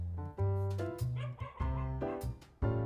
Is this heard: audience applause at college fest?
no